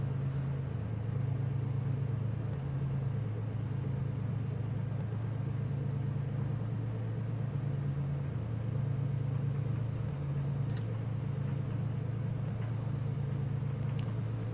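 In the X-Plane 11 flight simulator, the twin engines of a Carenado Baron 58 drone in a steady low rumble with slight pitch shifts as it begins taxiing, continuous and even throughout.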